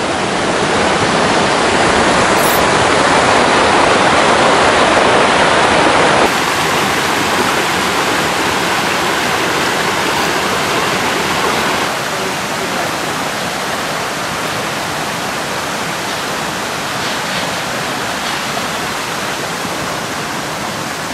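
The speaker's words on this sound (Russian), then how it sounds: "А это всего лишь река." A mountain river near Dombay rushing steadily in a loud, dense roar of water, close and continuous, with no voices.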